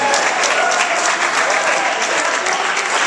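A crowd cheering and clapping loudly and steadily throughout, dense applause with scattered shouts, close and continuous.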